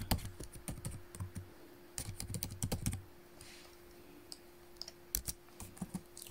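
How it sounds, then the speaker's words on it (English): A computer keyboard clatters up close with bursts of quick key presses as telephone numbers are typed in, separated by short pauses and a few isolated clicks, fairly quiet and with no talking. "Then let me type my telephone numbers."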